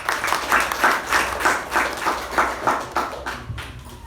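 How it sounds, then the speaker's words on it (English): Audience applause at a Toastmasters meeting, a steady patter of hand claps with rhythmic swells that taper off toward the end, heard alone without talk. "A round of applause."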